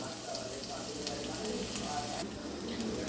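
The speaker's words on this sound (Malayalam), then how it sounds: "ഇഞ്ചി, വെളുത്തുള്ളി, പച്ചമുളക്, തക്കാളി. ഇവ ചേർത്തതിന് ശേഷം നന്നായി വഴറ്റുക." Ginger, garlic, green chili and tomato sautéing in a pan for a fish-head curry, a soft continuous frying sizzle with faint stirring, fairly quiet and unaccompanied by voices.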